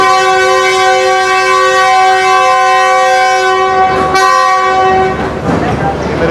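A train's horn blares a long, loud, steady chord as an empty rake moves through Rawalpindi railway station, cutting off near the end into rumbling wheels and station noise.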